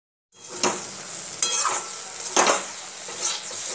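Brinjal frying in an oiled pan, a loud close sizzle that starts abruptly and swells in bursts as the pieces are stirred and turned, with no one speaking.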